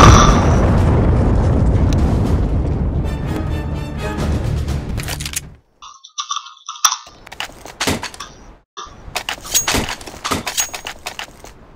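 A video game explosion on the Mirage map, a loud sustained roaring blast that decays over several seconds, followed by quieter scattered pops and clicks from the game.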